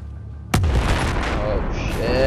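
C4 goes off in Battlefield 4 with a sudden loud boom, then a long rumbling roar and debris noise that keeps going for about two seconds.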